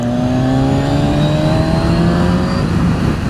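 A Kawasaki Z1000SX sport-touring motorcycle accelerates hard at full throttle, its engine note rising steadily in pitch, loud and close, with wind rush beneath and no talking.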